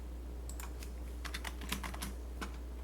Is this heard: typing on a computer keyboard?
yes